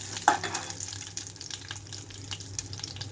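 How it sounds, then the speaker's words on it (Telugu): Tempering seeds, dried red chilies and curry leaves sizzle in hot oil with a continuous crackling hiss, opening with a sharp clink and followed by faint scattered pops and rustles. "ఆయిల్ అంతా హీట్ అయిన తర్వాత తాలింపు గింజలు అలాగే ఎండుమిరపకాయలు వేసుకున్నాను."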